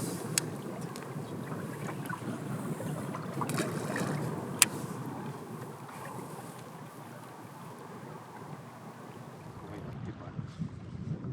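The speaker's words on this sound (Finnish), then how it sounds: "tosin tuulee aika kovaa, niin kuin varmaan huomaa" Strong wind gusts across open water on a sunny, dry autumn day of pike fishing from a boat in Kainuu, a steady broad rush with buffeting on the microphone, easing toward the end.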